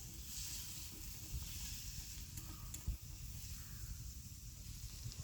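Steady sizzling of shallots frying in hot oil, with occasional soft stirring clicks and a faint background hiss throughout.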